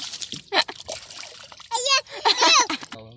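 Water splashes and pours as someone bathes outdoors by the sea, a few short splashy bursts mixed with children's voices and chatter nearby.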